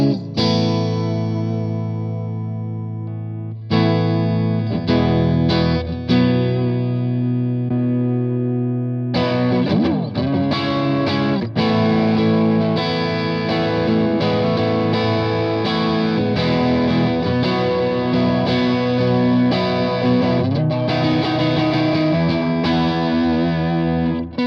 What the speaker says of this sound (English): I'm back with the Rockerverb 100 Mark III. I'm going to stick these two pedals in front of it